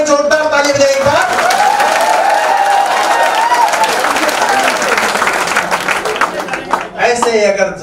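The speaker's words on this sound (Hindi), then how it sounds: "हाथ खड़े कर जोरदार ताली बजाइए एक बार" Students at a success party for selected ALP technician candidates clap loudly and continuously as a crowd, a dense sustained wall of applause with a voice faintly audible at the start and end.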